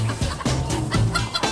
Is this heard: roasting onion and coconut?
no